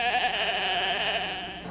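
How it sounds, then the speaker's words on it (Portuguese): Dolly the cloned sheep gives a single sustained bleat, close and clear, wavering slightly as it fades. "Descobertas mesmo, a ovelha Dolly."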